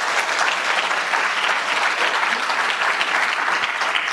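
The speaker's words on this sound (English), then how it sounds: "Can you give them a big round of applause?" A big round of applause from the audience at a U.S.–India friendship summit, steady dense clapping filling the room, loud and continuous without voices.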